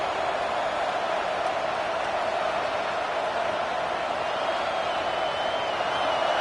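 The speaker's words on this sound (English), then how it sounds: "This crowd, full throat, splitting the eardrums and letting them know it's going to be a long day." A stadium crowd at a Washington versus TCU college football game roars in a dense, continuous wall of noise, loud and sustained throughout without breaks.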